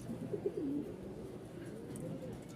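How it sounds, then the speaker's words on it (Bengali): Pigeons coo softly in a seller's lofts at a pigeon market in Mirpur-1, Dhaka, with a few low throaty coos near the start and then a steady murmur of birds through to the end. "তো বাহিরে কি কি কবুতর আছে সেগুলো দেখাবো"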